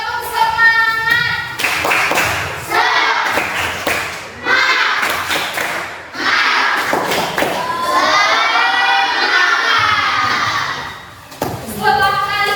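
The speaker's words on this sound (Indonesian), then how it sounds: "Tepuk semangat." Children in a classroom clap in bursts and shout and cheer together loudly, with thumps and rhythmic patting mixed in across several rounds of noisy group response.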